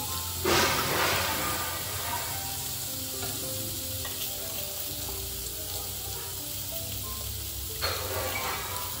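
Fried potatoes, drumsticks and rohu fish slide into a boiling curry broth, setting off a steady, close sizzle and bubbling with a soft watery splash near the start and another toward the end; no one speaks.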